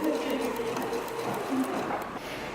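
A sewing machine runs steadily along the length of a pom-pom scarf, giving a continuous mechanical whir with a faint rhythmic chatter.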